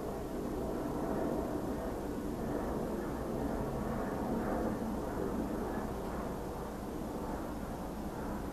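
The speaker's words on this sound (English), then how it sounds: "We can hear that plane, but it's all dark." Airplane flying overhead at night, a continuous broad rumbling roar at a distance, steady and fairly faint throughout, with no talking.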